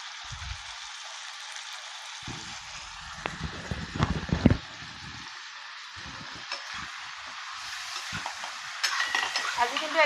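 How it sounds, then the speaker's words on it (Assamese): Potatoes fry together with chicken pieces, turmeric and spices in a pan, giving a soft sizzle broken by scraping stirs and clinks of a spoon against the pot, with quieter stretches between bursts of stirring. "মাংসৰ লগতে ভাজি আছোঁ।"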